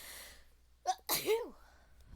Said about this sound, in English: Oh goodness, I got sneezes.